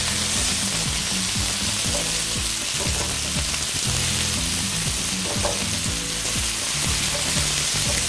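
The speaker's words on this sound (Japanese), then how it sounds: "豆板醤を入れて、またさらに炒めて風味を出してください。" Doubanjiang chili bean paste is stir-fried in a hot pan for a chop suey rice bowl, with loud continuous sizzling and quick, repeated clattering stirring strokes throughout.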